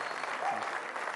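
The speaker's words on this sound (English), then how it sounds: "Let's have a round of applause for Gaur Gopal Das." A summit audience applauds the lifestyle coach Gaur Gopal Das, giving a brief, dense burst of clapping at a steady level with faint crowd murmur mixed in.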